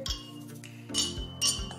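Glasses clink together in a birthday toast, with about three bright, separate chimes spread over a couple of seconds against quiet room tone.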